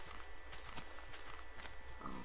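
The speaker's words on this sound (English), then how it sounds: "I heard a pig." A game pig in a blocky Minecraft-style world grunts repeatedly in short snorting bursts, faint and somewhat distant, with no voices over it.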